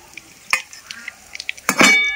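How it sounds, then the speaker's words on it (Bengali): Potatoes frying in oil for chicken biryani: a soft sizzle under a couple of sharp utensil clinks against the pan, the second one louder near the end, over a short close span. "এবার আলুগুলো ভেজে নেব।"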